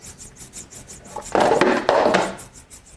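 A rifle bolt face is sanded by hand on 400-grit sandpaper, making a soft rhythmic rasp of short strokes that swells into two louder, longer scrubbing passes before easing off again, close up with no talk.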